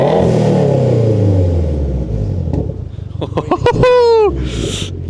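A Subaru WRX on its stock tune, fitted with revised unequal-length twin-scroll headers, rumbles loudly at idle and then fires off a series of sharp throttle blips that rise into one long rev and fall back, close to the microphone.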